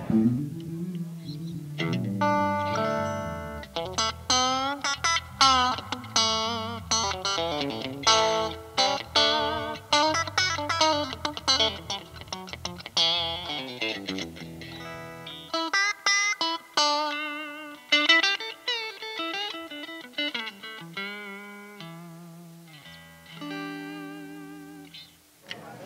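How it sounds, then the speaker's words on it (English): An electric guitar played through a Fender '68 Series Vibrolux amp turned up loud with reverb, giving warm natural overdrive, with chords and single-note runs ringing out steadily for about half a minute. "I'm going to crank it up a little bit so you can hear the nice natural distortion that it has"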